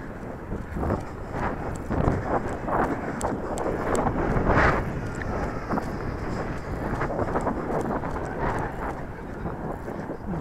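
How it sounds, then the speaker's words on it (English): Gusty wind buffets the microphone in a steady, loud roar with surging gusts at an RC flying field, with no other clear sounds over it. "Gusty morning."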